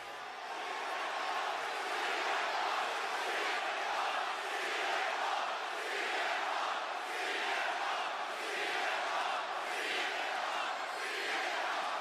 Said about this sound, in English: The crowd is loud for Punk.